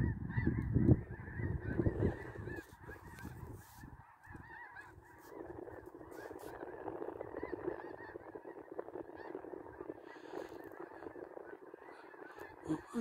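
Thousands of geese in huge flocks, some white with black wingtips and others dark-winged with white bodies, honk continuously in Nebraska. The dense, overlapping chorus of calls is heard from a distance, with no talking.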